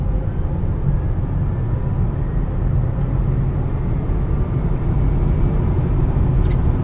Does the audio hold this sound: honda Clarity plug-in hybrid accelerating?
yes